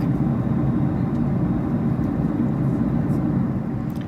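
Steady, loud broadband drone fills a Boeing 757-200 cabin cruising over the Atlantic, an unbroken low roar of engine and airflow with no break.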